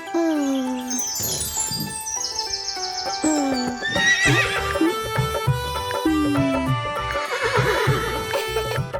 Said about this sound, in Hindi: चल मेरे घोड़े चल टिक टिक